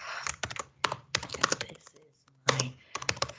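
Bursts of typing on a computer keyboard while entering a first line of code, clustered keystroke runs with short pauses, close and fairly loud, with faint voice-like sound in places.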